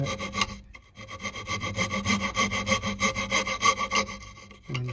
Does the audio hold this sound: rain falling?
no